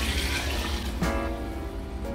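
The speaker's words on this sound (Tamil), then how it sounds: "ஸோ மட்டன் வேக வச்ச தண்ணி இருக்குது, இதில் 1 கப் இருக்குது." Mutton cooking water pours into a biryani pot, a steady close liquid splash and gurgle running for about two seconds with a brief change partway and no talk.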